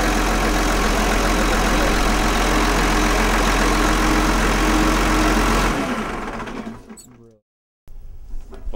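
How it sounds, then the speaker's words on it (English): A Cummins six-cylinder diesel engine in a snow groomer runs loud and steady for several seconds, then winds down and cuts out, with a brief silence before some noise returns near the end. "this one starts out with the Cummins diesel, 6-cylinder diesel"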